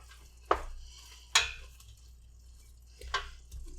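Ground beef in a skillet broken up with a wooden spoon, three distinct scraping knocks against the pan spaced a second or so apart over a faint low sizzle.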